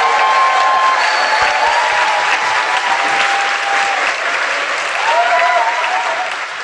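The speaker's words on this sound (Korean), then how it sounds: "우리 스태프 여러분들께 큰 박수 좀 부탁드리겠습니다" A large indoor audience gives sustained, dense applause for the staff at a live talk show event. The clapping stays loud and steady throughout, with faint voices mixed in.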